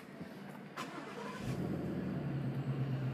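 A 2015 Ford Roush Stage 2 Mustang convertible fires up by push-button start: a brief starter whir and click, then the engine catches and settles into a steady, close idle rumble.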